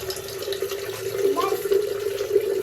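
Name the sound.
water pouring from a tap for drinking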